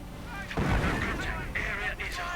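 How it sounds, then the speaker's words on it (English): Mortar and artillery blasts in a WWII strategy game: a heavy low thump near the start, then rumbling battle noise with sharper crackles, under a commentator's talk. "the trench getting mortared, but the mortar's doing absolutely nothing to the poor chaps inside"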